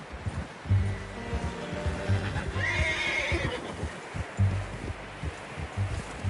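A horse in Red Dead Redemption 2 gives a loud whinny over hoof clip-clop and rustling outdoor ambience, with the footfalls continuing after the call.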